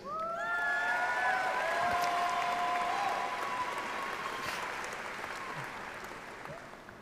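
Audience applause for doctoral graduates at a spring commencement fills the hall with broad, even clapping that slowly fades, and a few faint tonal tones sound near the start.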